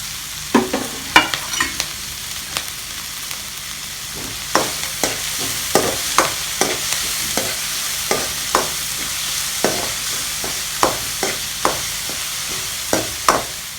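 Onion and green chilli sauté lightly in a pan while being prepared for a vegetable roll, giving a low steady sizzle and regular sharp spatula scrapes every second or so, close and moderately loud.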